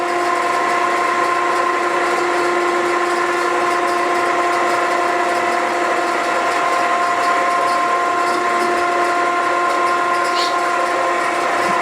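An Okamoto ACCUGAR 124N hydraulic surface grinder making passes, giving a steady, loud mechanical whine with sustained tonal hums and a faint ratcheting texture running continuously throughout.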